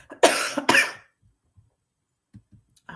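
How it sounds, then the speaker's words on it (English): Two harsh, close coughs in quick succession, followed by near silence with a few faint small noises. "I apologize for coughing all in y'all face"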